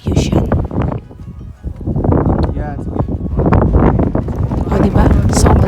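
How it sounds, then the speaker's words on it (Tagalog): Strong wind at the summit of Yushan buffets the microphone in loud, gusty low rumbles that swell and ease, with people talking over it. "Sobrang lakas ng hangin."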